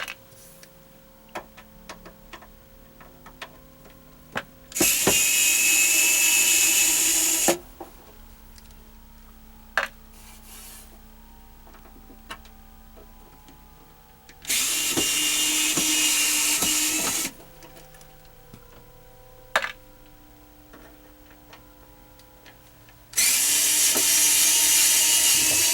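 Small regular machine screws being backed out of the rear panel of a Univox K-1 (MiniKorg 700) synthesizer with a ratcheting tool, three separate bursts of close clicking a few seconds each, with quiet handling noise between them.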